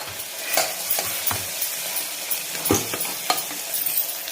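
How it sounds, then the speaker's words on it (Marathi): Ginger garlic paste sautéing in a pan for dry mutton, a close, steady sizzle broken by repeated scraping stirs of a spoon against the pan. "तर आपण ही अद्रक लसणाची पेस्ट टाकायची आणि ह्याला आपण एक काही सेकंद आपल्याला परतून घ्यायचं"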